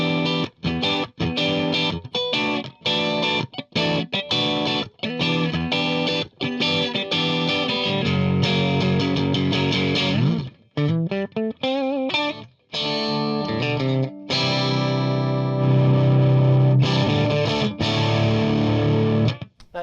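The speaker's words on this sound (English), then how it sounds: "just to hear some single coil stuff" Single-coil electric guitar run through a pedal board into a Wangs Mini 5-watt tweed-style tube amp in tube rectification mode, played as loud, driven chords and riffs with modulation effects, continuous and unaccompanied.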